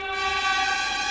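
A loud, sustained train horn blares steadily, a rich multi-tone blast held throughout without pause.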